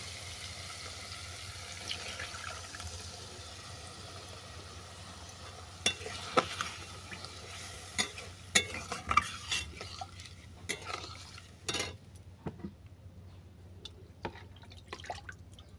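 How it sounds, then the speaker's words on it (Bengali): Fried potatoes being stirred with spices in a pan for a vegetarian banana-flower dhoka curry, with spice-paste water added: soft scraping and clinks of a utensil, then sharper splashy clatters and drips building toward the end, no talk. "আলুটা মশলার সঙ্গে ভালো করে মিশিয়ে নেওয়ার পর দিয়ে দিচ্ছি মশলা বাটা জল।"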